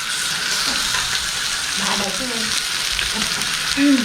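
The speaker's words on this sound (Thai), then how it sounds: "น้ำมันมันกระเด็นใส่หน้าตาค่ะทุกคน" Pork frying in hot oil on a Thai moo kratha grill during a family New Year's gathering. A steady, close sizzle with crackling oil spatter runs throughout, and a voice briefly sounds near the end.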